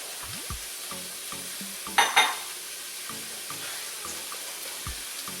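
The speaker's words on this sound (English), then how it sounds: "Let this all kind of sizzle together." Onion and red pepper sizzle in olive oil in a pan, a soft steady frying hiss broken by a few stirring scrapes and one brief louder burst.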